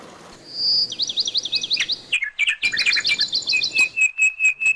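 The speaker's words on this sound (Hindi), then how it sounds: "जहां सिर्फ पानी और परिंदों के चहचहाने की आवाज आपके कानों में रस घोलती है।" Small birds chirping and trilling beside water in Basho Meadows, Skardu, a bright, close run of rapid repeated tweets and warbled phrases over a soft background hiss, with no talking.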